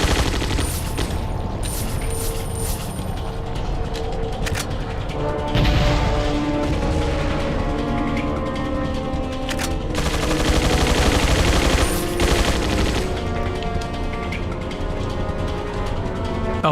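Gatling gun fire in Resident Evil 4 (2005): dense, continuous rapid bursts of gunfire fill the scene, loud and unbroken, with sharp crashes and impacts layered over the chatter.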